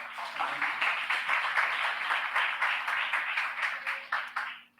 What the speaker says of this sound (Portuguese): Vamos aplaudir antes de orar.